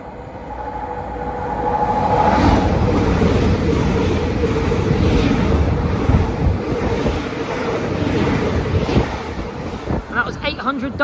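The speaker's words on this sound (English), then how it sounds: "Passing through now is a Great Western Railway service from Carmarthen to London Paddington" Great Western Railway Class 800 train running through Pencoed station, a loud sustained rumble and rail roar with wind buffeting on the microphone, a voice speaking briefly near the end.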